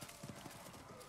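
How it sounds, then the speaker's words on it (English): Horse in the card game Thronebreaker: The Witcher Tales, with quick clip-clopping hooves and a faint neigh under a busy layer of game sound, all fairly quiet. "Meve spurred her horse. It neighed and reared"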